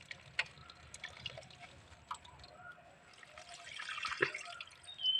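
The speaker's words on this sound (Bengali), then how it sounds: "ফুলগুলো এখন জলে ধুয়ে নেবো" Village flowers being washed in water give faint dripping and trickling with soft splashes, growing a little busier toward the end.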